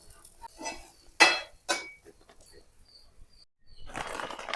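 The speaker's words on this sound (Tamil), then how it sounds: "இந்த ப்ரெட் வந்து ஒரு பக்கம் நல்லா வெந்து வந்துட்டு அதை அப்படியே திருப்பி போட்டுறேன்" A bread omelette being turned over in a pan, made with bread, egg and cheese, gives a few soft clinks and scrapes of metal against the pan, with quiet pauses between the knocks.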